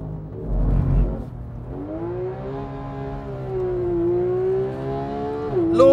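A Porsche 911 GT3 Club Sport with PDK transmission, its engine note climbing steadily in a loud, sustained pull close by, with a brief shift near the end.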